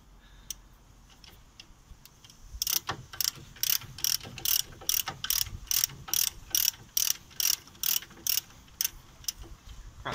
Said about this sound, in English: now we need to undo the caliper bridge, which on a normal 3/8 drive ratchet and a 15mm socket, it shouldn't take too much hassle